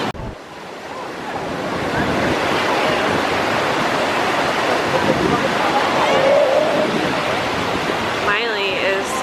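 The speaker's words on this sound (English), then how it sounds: "These waves are pretty big." Ocean waves break at a California beach in a loud, steady roar of surf and wash that fills the whole stretch, with faint voices partly mixed in.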